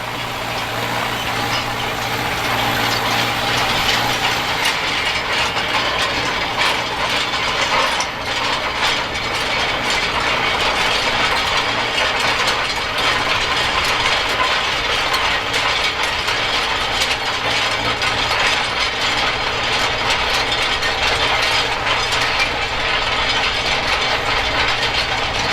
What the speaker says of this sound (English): we're rolling with the MB-Trac 800 with the Hunt Manifold rolls